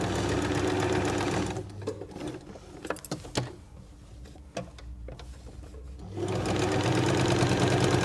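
A sewing machine stitches scrap fabric bunting, whirring steadily and close, then stopping for a few seconds of small clicks and handling noises before running again at full speed.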